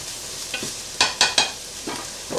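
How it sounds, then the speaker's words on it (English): Onions and peppers hit a pan of hot oil for a homemade beef-and-pasta skillet dish, giving a few sharp, close crackling sizzle bursts over a faint background hiss, with no talking. "We got the oil heated up here. This pan's nice and heated, so we're gonna go ahead and get the onions and peppers on."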